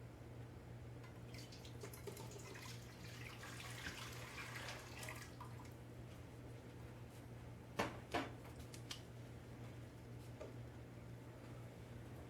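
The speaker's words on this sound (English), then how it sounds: "we're going to pour out the water" Water from home-canning jars, heated full in a canner while tomatoes are prepared, is poured out in a soft, steady trickle at low level over a constant background hum, ending with a few brief clinks near the end.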